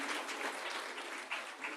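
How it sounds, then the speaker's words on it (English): Brief indoor applause from an audience at a Founder's Day lobby celebration, a soft, steady patter of clapping without talk. "can I invite you all to give Dr. Nandini a much bigger round of applause?"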